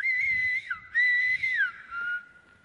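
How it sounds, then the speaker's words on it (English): Silbo Gomero, the whistled language of La Gomera island, heard as a clear, loud whistled phrase of sustained, gliding tones with a short break in the middle, alone without talk. "we hope to keep whistling alive on this island"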